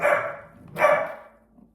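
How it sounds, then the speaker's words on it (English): A dog barks twice nearby, two loud separate woofs with a short pause between them. "That is my dog, Coco, barking"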